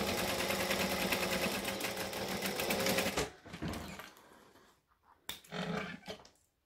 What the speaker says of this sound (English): We're going to stitch along here.